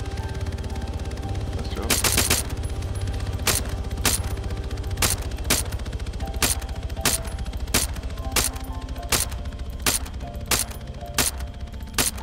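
Rapid gunfire aimed at a hovering helicopter in the Arma 3 wasteland game mode, sharp loud cracks in quick bursts and single shots over a constant low engine drone, with brief talk mixed in.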